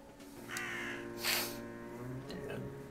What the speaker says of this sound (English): I don't like this crow.